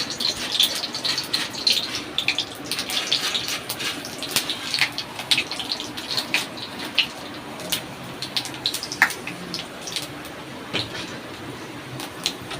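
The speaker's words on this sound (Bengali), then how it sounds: "একটু পাঁচফোড়ন দিয়ে দেব চপর চপর করে ওঠে" Panch phoron spices crackle and spit in hot oil alongside dried red chillies, a dense run of sharp close pops and sputters over a soft hiss, fairly loud and without talk.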